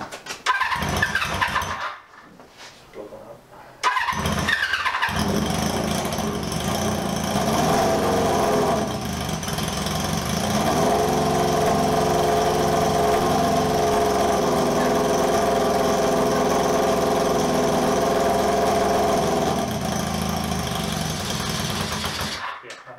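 A 1978 cafe scrambler motorcycle engine runs close by in a steady, slightly uneven and spluttery drone after a few short bursts and gaps at the start, with no voices over it.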